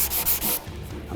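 Fingertip pressure drives 220-grit sandpaper by hand across guide coat on a car fender, giving a close, loud scratchy rubbing of several quick strokes that ends abruptly, followed by quieter room tone.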